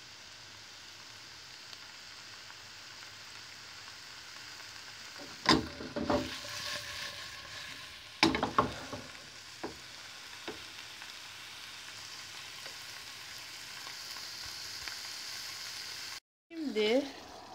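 Brussels sprouts frying and sizzling in a pan with a steady low hiss throughout, broken by a few louder bursts of rattling as the pan is shaken, then a brief gap and a final clatter.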